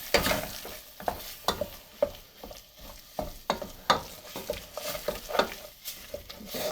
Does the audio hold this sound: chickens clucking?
no